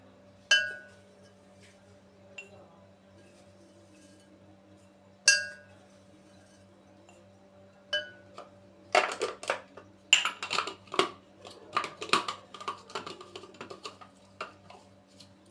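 Metal spoon clinking against a glass spice jar as spices are added for a Moroccan spice blend for kordass and gueddid; a few isolated clinks early, then a dense run of quick rattling clinks and taps, close and clear with no talk.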